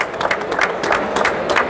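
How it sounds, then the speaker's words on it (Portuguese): Brief applause at the FEICON 2023 trade fair for a Rebotec powder waterproofing product, scattered close claps over crowd noise. "Uma salva de palmas pra esse produto fantástico"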